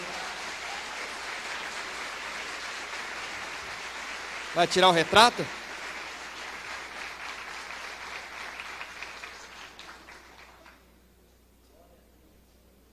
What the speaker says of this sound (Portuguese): Vamos receber o pastor Odilon com uma forte salva de palmas